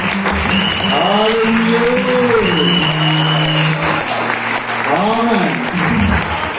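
A church congregation claps continuously and cheers throughout, a loud, dense wash of applause mixed with raised voices and sung or shouted exclamations.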